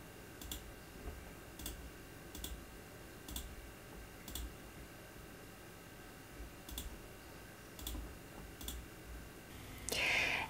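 Mouse button clicks on a computer while demonstrating clinical prescribing software, several light, evenly spaced clicks in a quiet room, with a louder rustle at the end.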